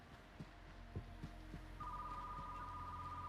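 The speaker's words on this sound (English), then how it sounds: "stop ringing the phone" A telephone rings in the video game Retro Rewind Video Store Simulator, starting partway through as a steady electronic tone over a low hum and some soft thumps.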